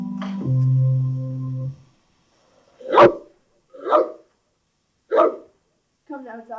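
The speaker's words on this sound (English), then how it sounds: "There's a good dog." Dog barking outdoors on a fine day while a man plays catch with it: three loud, separate barks spaced about a second apart, after a voice and before a brief yip-like sound.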